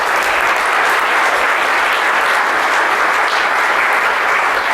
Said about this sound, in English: give a big applause to all the goons, the staff, the organizers.